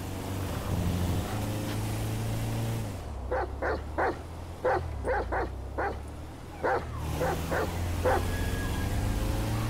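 A dog barks in a Grand Theft Auto V video game in a quick irregular series of sharp yaps, about a dozen, while a low engine drone runs underneath.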